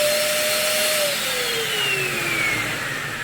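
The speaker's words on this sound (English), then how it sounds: "try to put the vacuum box on there with that capillary at that point. It's going to let air blow through." A vacuum box leak tester running on a pipe with capillary defects, a loud steady suction whine with a pitch slowly drifting downward, no voices.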